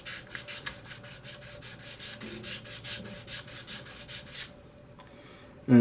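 Sandpaper rubs steadily along the grain of a spalted walnut vase being woodturned, in a quick, even rhythm of about twenty strokes, then stops, leaving near silence.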